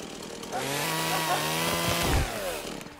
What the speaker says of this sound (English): A chainsaw!